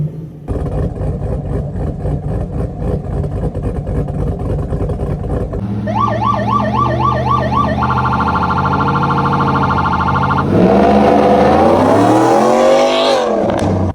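Supercharged undercover police SUV with a steady, loud engine note, then a wailing siren-like tone sweeps in partway through, followed by a rising and falling whine near the end; no talk.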